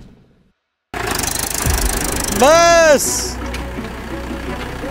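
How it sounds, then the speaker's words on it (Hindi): A tractor engine keeps running for a long stretch, a steady low rumble and knock under loud talk, with a brief sweeping whine partway through. "और अभी भी ट्रैक्टर चल ही रहा है भाई,"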